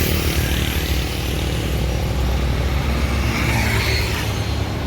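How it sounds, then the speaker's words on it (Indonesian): A bus roars past on a straight road, its engine loud and close as it races alongside others in a convoy, with a broad rushing wash of traffic noise. "Ada bus NPM."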